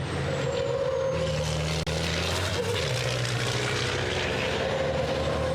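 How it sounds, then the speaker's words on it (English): Racing truck from the European Truck Racing Championship at the Hungaroring, its engine droning loud and steady with a shifting tone and a brief pause partway through, suggesting acceleration and braking close by. "The grunt of the engine under acceleration, the chirping of the tyres and the brakes under heavy deceleration"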